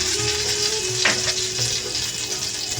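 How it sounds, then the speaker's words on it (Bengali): Cumin seeds, torn bay leaf and whole dried red chilies sizzle steadily in hot oil for tempering, a continuous close frying hiss with light stirring and no talk. "ফোড়নে দেব সামান্য পরিমাণে একটু জিরে তেজপাতা সেটা আমি ছিঁড়ে নিয়েছি আর গোটা শুকনো লঙ্কা"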